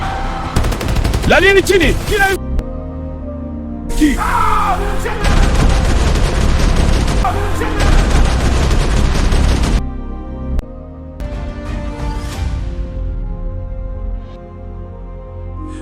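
Gunshots fired into the air during a bank robbery: loud, close bursts of rapid gunfire with heavy booms, broken by brief pauses, and a voice shouting over the shots.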